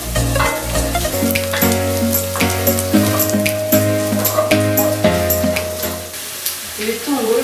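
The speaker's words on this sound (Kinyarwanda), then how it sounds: "turakomeza tubikarange mpaka bihinduye ibara" Onions frying in a pot for chicken pilau, a steady sizzle and crackle under loud music with sustained tones throughout, a few stirring clatters cutting through.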